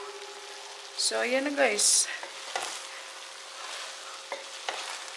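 Seafood noodles with lettuce being stir-fried in a pan, a steady soft sizzle with scraping stirs, under a voice talking at close range.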